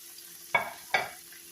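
Cooked, drained meatballs dropped back into a frying pan, giving two brief bursts of sizzle a fraction of a second apart that quickly fade to a low hiss.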